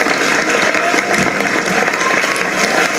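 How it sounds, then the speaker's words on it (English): Audience applauding an inspirational speaker at a live event, a loud, continuous, dense round of clapping throughout. "Give that a round of applause"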